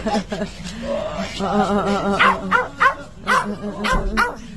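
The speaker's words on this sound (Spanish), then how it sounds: "Ellos ladran como si les preguntara ¿dónde has estado?" Dogs bark, yip and whine excitedly in quick, overlapping bursts, close by and fairly loud.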